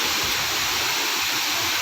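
Devjhar waterfall pours in a dense, steady roar of rushing water, broad and unbroken throughout, with no voices heard.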